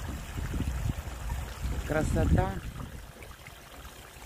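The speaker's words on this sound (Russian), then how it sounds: "Смотрите, водопад." A small waterfall spills into a garden pond with a steady, close trickling wash, and someone speaks briefly over it.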